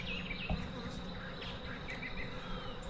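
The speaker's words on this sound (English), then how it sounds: "Still a lot of bees." Dense, steady buzzing of many honeybees swarming around open hive frames during a queen search, a continuous close drone filling the whole clip with no talk.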